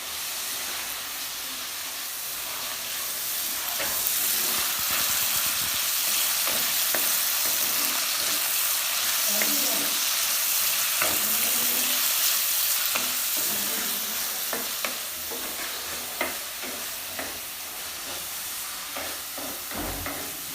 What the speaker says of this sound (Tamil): புதினா, கொத்தமல்லி அரைஞ்சி வச்சிருக்கோம்ல, அதை எடுத்து இதில் போடணும். போட்டு நம்ம கிண்டி விட்டுக்கலாம்.